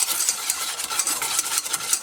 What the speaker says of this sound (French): je mets les jaunes d'œufs dans la casserole avec le sucre. Dans un premier temps, on va venir ici fouetter pendant environ 20 secondes